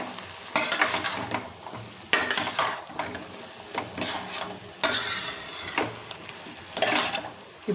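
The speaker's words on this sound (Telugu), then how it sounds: "ఇప్పుడు ఇది వేగనివ్వాలి కర్రీ" Eggplant and potato masala curry fries in a pan while a spoon stirs it, making about five or six bursts of scraping and rattling over a soft, steady sizzle.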